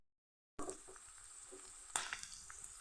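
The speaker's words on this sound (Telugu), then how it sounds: "రొయ్యలండి, ఆయిల్ వేసుకుని బాగా ఫ్రై చేసుకోవాలి" Prawns frying in oil, a low steady sizzle with faint crackles and a sharper scrape or pop partway through, quiet and near, after a moment of silence.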